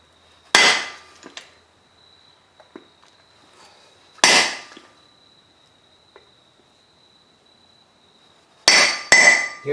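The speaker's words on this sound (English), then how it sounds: "I have a seal driver. It makes it a little easier. I'm just going to set that seal in place." Hammer blows on a seal driver seating a new brake hub seal on the front of a 2002 Ford Ranger RWD, heard as three sharp, loud metallic strike bursts spaced several seconds apart, near and clear with no talk.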